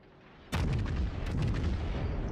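Yamato battleship main guns fire in World of Warships, a sudden heavy booming salvo followed by a second rumbling blast, loud and close against quiet background.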